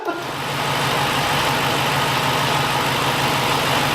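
A 1981 Oldsmobile Cutlass Supreme engine fires up and runs steadily during cam break-in, a loud continuous rumble that swells over the first half second and then holds at a constant high speed.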